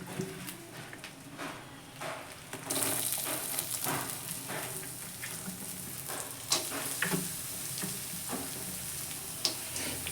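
Chopped onions frying in hot oil together with a roasted spice paste: a steady crackling sizzle with light stirring clicks and scrapes that hold on throughout, close and moderately loud, with no voices.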